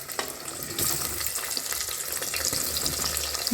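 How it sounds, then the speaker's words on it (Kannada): Sliced onions hit hot oil in a pan for mutton biryani, giving a steady bright sizzle and hiss that starts loud and continues close and even, with faint clinks in the background. "ಈಗ ಈರುಳ್ಳಿ ಹಾಕೊಂತ ಇದೆ"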